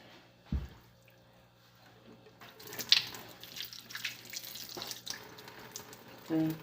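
Tap water runs in a sink while tuppa innards are washed, a soft continuous splashing that picks up partway through with small knocks and handling noises, close but fairly quiet.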